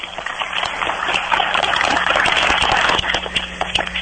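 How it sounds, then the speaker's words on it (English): An audience applauds a local food bank at a district judge candidates' debate, a steady wash of many hands clapping that holds for about four seconds at moderate loudness, with no voices over it. "Give a big applause to Cenlaw Food Bank."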